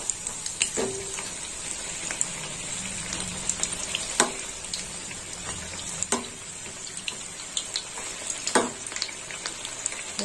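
Capsicum pakoras coated in besan batter fry in oil, a steady soft bubbling hiss with occasional sharp pops and clinks standing out at intervals, close and moderately quiet.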